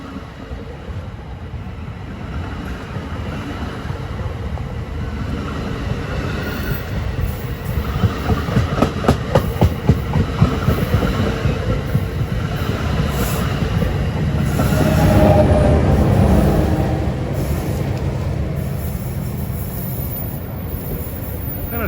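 An NJ Transit diesel train rolls past Ridgewood station on the Port Jervis line, a steady loud rumble with rhythmic wheel clatter over rail joints and a swelling roar near the end.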